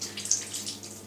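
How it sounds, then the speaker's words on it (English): Warm water runs from a tap to wet a loofah sponge. The stream is soft and steady, close and fairly quiet, with no talking. "I normally like to use quite warm water to wet the sponge"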